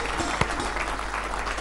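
Audience at a Hindi poetry gathering (kavi sammelan) applauding warmly to welcome poet Ruchi Chaturvedi from Mathura, continuous dense clapping with one sharper clap standing out.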